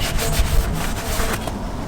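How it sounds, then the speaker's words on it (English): A rag rubs across the oil filter mounting surface of a Ford Econoline during an oil change, a steady close scrubbing and wiping sound with a low rumble beneath, no voices. "I'm just going to clean off the surface there."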